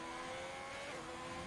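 Race car engine revving up through the gears on a circuit in Mexico, a steady high-pitched drone that holds near and loud for the whole moment with no voices.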